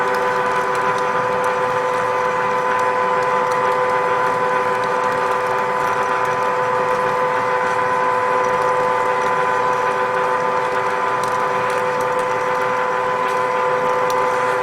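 A pipe threading machine fitted with a 419 nipple chuck cuts threads onto a pipe, giving a steady, loud mechanical whir with a constant hum and ratcheting texture that carries on evenly throughout, no voices.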